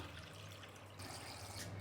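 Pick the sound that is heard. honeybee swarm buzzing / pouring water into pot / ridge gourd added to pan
pouring water into pot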